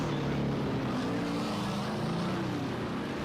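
A race car engine under hard throttle in an Xfinity Series race at the Texas road course in a racing video game, a steady loud droning roar that holds from start to finish.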